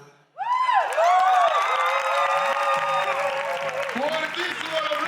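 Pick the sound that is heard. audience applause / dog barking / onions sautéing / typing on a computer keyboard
audience applause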